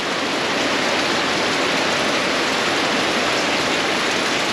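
Heavy rain during a wet week in Australia, pouring steadily as a loud, even hiss with no pauses and no voices.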